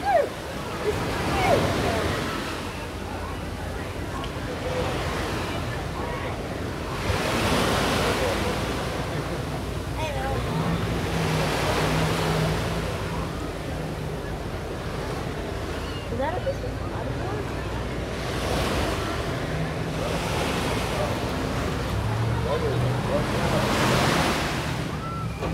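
Ocean waves roll and break near the pier at Redondo Beach, California, in steady recurring surges about every five to six seconds, mixed with wind rumble on the microphone.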